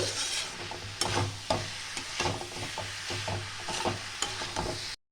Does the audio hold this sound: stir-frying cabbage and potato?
yes